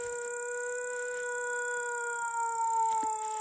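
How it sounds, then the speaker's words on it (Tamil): A dog howls in a long, sustained, steady wail that carries through the whole stretch at moderate loudness, with no voices over it. "நாய் அழு."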